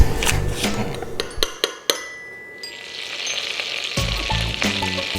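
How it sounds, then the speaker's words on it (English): Butter melting and sizzling in a pan for a cheese sauce, a steady loud hiss with a few sharp clinks of utensil on the pan, briefly quieting before the sizzle swells again. "I just start by melting some butter in a pan"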